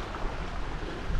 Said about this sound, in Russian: Шум воды.